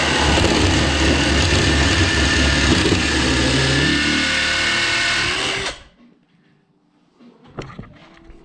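An impact driver spins a plug cutter into wood with a loud, continuous buzzing whir for over five seconds, then cuts off abruptly, leaving near silence broken by a couple of small clunks.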